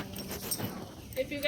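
Puppies at a puppy class give short whimpers and yips in quick bursts, close by and mixed in with people talking.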